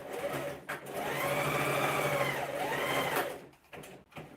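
A sewing machine runs continuously, stitching fabric for a scarf after its thread tensions were adjusted, a steady whirring hum lasting about three seconds before slowing and stopping, close and clear with no talk.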